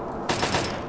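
Automatic gunfire in Fallout 3, a brief rattling burst of a few rapid shots over a steady hum, fairly close and short.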